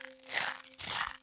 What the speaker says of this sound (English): It was Moyo eating his crunchy breakfast.